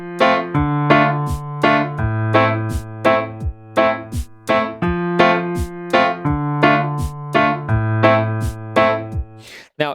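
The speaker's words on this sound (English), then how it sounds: "So I'll play with both hands. It's gonna sound like this." Piano chords from the intro of a song are played with both hands. Sustained bass notes sit under repeated, evenly rhythmic chord stabs, loud and close.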